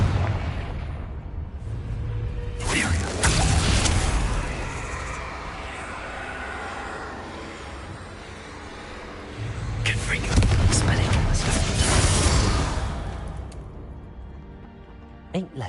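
Confringo fire-blast spell explosions in Hogwarts Legacy, two broad booming bursts several seconds apart, each swelling into a loud rumbling roar before fading, over continuous game background noise.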